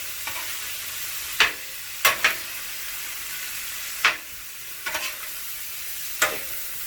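Ground beef, a 73-27 blend, sizzling on a griddle for cheesesteak, with a constant frying hiss broken by several sharp scrapes and taps of a spatula turning the meat.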